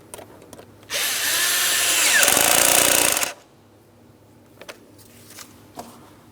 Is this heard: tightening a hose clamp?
yes